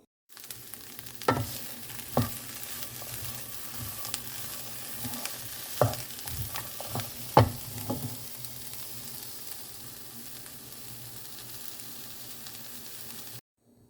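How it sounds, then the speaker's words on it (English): Onions and zucchini sauteing in sauce in a home kitchen pan give a steady low sizzle and bubble, broken by a few sharp clinks and scrapes of stirring, with no voices. "I'm going to saute onions and zucchini in the sauce"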